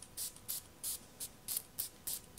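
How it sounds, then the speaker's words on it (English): A spray bottle mists cornflower hydrosol in about eight quick, soft hissing spritzes. They come in an uneven rhythm, close by and quiet. "So close eyes and spray it on it."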